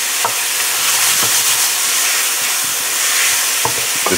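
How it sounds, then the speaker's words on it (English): Rib tip meat sautés in a pan, a steady sizzling hiss broken by a few scraping stirs of a utensil, close and fairly loud with no talking. "So basically you want to get it sauteed down. And keep moving with it and don't let it burn."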